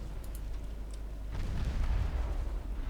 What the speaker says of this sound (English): Oh, there we go. One torpedo hit.